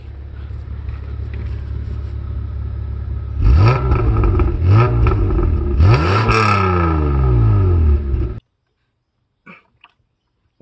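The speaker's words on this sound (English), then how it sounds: "rev her up" Toyota Avalon engine revved up several times with a freshly replaced radiator, each rise and fall of pitch sharp and close over a steady idle rumble, then cut to near silence.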